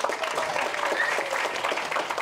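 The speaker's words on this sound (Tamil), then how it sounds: "மகேஷுக்கு ஒரு பெரிய கைத்தட்டல்" An audience at a Tamil film trailer launch bursts into applause for an associate named Mahesh, a full, lively round of clapping from a crowded hall, steady and fairly loud, with faint voices mixed underneath.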